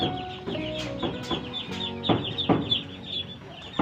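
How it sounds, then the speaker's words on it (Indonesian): A lone Muscovy duck drake clucks repeatedly nearby, short throaty calls in an uneven rhythm against a faint background. "Nah itu ayam kasihan masih sendirian, belum dikasih betinanya."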